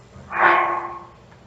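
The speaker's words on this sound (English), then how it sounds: "We're opening the pause screen." A brief soft whooshing menu tone rises quickly and fades out over about a second, gentle and airy, with no talking.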